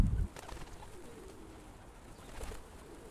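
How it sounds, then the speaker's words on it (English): A flock of pigeons at a motel, soft low cooing and occasional bird calls at moderate distance over faint ambient background, with a brief louder bump at the very start. "But there's a huge flock of pigeons that live there."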